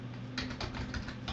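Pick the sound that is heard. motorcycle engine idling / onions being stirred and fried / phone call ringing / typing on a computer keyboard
typing on a computer keyboard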